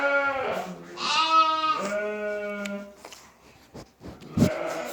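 Lambs bleat repeatedly in close, wavering cries, several overlapping calls one after another with a few short knocks near the end.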